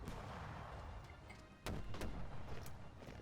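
Artillery strike in the Hearts of Iron 4 strategy game, heard as a low continuous rumble with several sharp booming blasts in quick succession in the second half, fairly loud with no voices.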